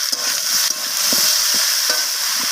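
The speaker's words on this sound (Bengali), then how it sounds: "আবারও আমি সব কিছু এইভাবে কষিয়ে নিচ্ছি ভালোভাবে নাড়াচাড়া করে।" Vegetables and fish head fried down in oil in a pan for a Bengali mixed-vegetable chorchori, a steady hiss of frying under repeated scraping stirs, close and fairly loud with no talking.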